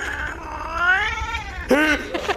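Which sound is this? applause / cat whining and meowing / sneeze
cat whining and meowing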